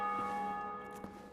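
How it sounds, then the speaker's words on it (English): Bells ringing in Dark Souls Remastered: two struck tolls, one near the start and one about a second later, with long steady metallic tones humming between them. "Somebody else just rang the bells."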